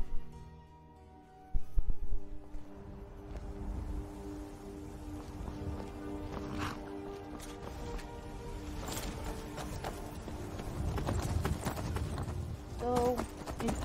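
Horse hooves clip-clop steadily during a ride in the video game Skyrim, a continuous rhythmic trot layered over game music and ambient background sounds.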